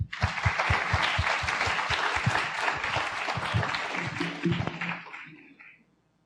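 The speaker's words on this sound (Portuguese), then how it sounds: "Salva de palmas para a Maíra." A lecture audience at a university energy efficiency week claps for an architect speaker on sustainable construction, a full round of applause that holds steady for several seconds and then dies away into near silence.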